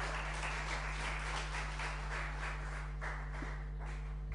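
An audience applauds at a Romanian event on diversity and freedom of expression, a steady patter of many hands clapping at a moderate distance, sustained for a few seconds over a low hum with no talk.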